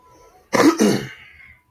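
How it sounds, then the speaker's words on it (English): A single close, rough throat clearing, two quick guttural bursts followed by a short trailing rasp, then silence. "Let me clear my throat"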